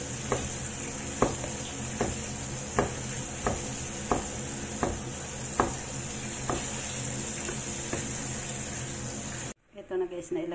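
Garlic and chili sizzle steadily in a hot frying pan, with regular utensil taps against the pan roughly every second over the frying hiss; it cuts out near the end as a voice begins talking.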